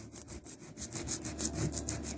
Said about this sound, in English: You want to bridge the rust spot with the sanding block.